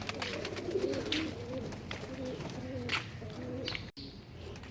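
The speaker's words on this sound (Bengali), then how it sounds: "আরবির আব্বা এই জোড়া কবুতরটা নতুন আনছে" A pair of pigeons on a rooftop coo steadily in soft, repeated low warbling phrases, fairly close, with faint rustling and background ambience throughout.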